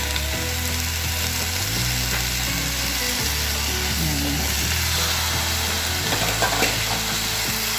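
Cauliflower dropped into a hot pan for coconut-milk chop suey, sizzling and frying steadily while a utensil stirs and scrapes with rhythmic clicks, close and loud throughout.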